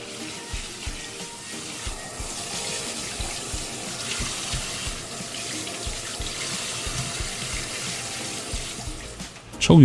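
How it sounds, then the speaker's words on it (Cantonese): Duck pieces rinsed under a kitchen tap, with a steady broadband rush of running water filling the whole clip close by, and a louder splash as the flow shifts at the end. "喺水喉水下面沖洗下佢"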